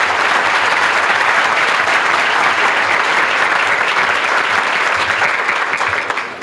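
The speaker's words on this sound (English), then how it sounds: "Yes, you can clap." Dense, steady applause from a large audience at an award dinner, honoring a couple's 48th wedding anniversary, loud and sustained for several seconds before tapering slightly at the end.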